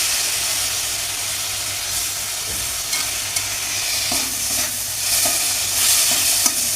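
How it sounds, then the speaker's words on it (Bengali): Soaked, drained gobindobhog rice stir-fried with spices in a pan: continuous hissing sizzle with scraping stirring strokes, close and fairly loud, no voices. "এবার চালের সাথে মশলাটাকে ভালো করে কষিয়ে নিতে হবে"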